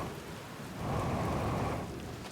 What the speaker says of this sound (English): It's also currently raining here.